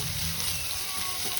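Onions frying in a pan for a homemade butter egg gravy, a steady broadband sizzle with faint stirring, continuous and close with no speech.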